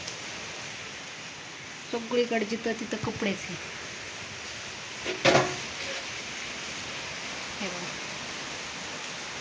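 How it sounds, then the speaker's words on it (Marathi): Rain falls on its third straight day, a steady broadband hiss that runs unbroken from start to finish while a person talks briefly over it and a sharp knock or clatter sounds once. "आता कुठं सुरू झालेला आहे, पण सलग 3 दिवस पाऊस."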